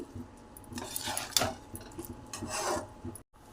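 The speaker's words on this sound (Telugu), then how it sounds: "బీట్రూట్ బాగా ఉడికిపోయింది ఇప్పుడు ఈ కర్రీలో వేసుకుందాం ఫ్రెండ్స్ ఒకసారి బాగా కలుపుకుందాం" Beetroot and chana dal curry stirred in a pan, with steady scraping and rubbing strokes and a few clinks of a utensil against the metal, close and continuous.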